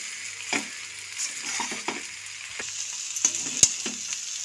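Rice noodles tossed with winter vegetables in a pan, a spatula scraping and turning them over a steady low sizzle, with a string of soft clacks spread across the mix and a sharper knock near the end; no voices.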